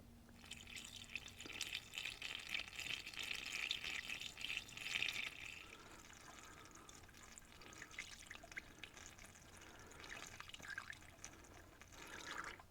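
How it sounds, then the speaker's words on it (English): Evaporust rust-remover liquid being poured into a manual transmission, a faint, quiet trickling and dribbling pour with small splashes that fades after a few seconds, followed by light drips and handling noises, with no talking. "So let's pour it in."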